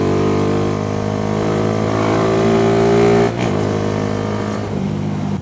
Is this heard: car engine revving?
yes